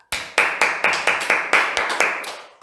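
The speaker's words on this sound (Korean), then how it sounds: "환영과 격려의 박수를 돌리겠습니다" A church congregation claps in welcome and encouragement during a worship service, about ten sharp, separate clap bursts in an irregular rhythm, close and fairly loud, with no talking.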